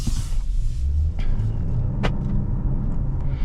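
Inside a 2024 Jeep Wagoneer under way, the 500 hp engine and road noise make a loud, steady low rumble, broken by a couple of brief clicks, with no talking.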